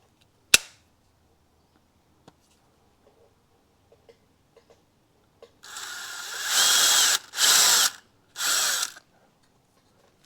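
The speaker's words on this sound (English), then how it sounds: "I'm going to try a left-handed drill bit." A left-handed drill bit drills out damaged screws on a 1975 Yamaha DT175 motorcycle, heard as three loud whirring bursts near the end after a sharp click and scattered faint taps.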